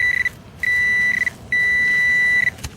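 Metal detector tones signalling a coin in the ground: three steady, clear electronic beeps of similar pitch, each about half a second to a second long with short gaps, close and loud, with no talking.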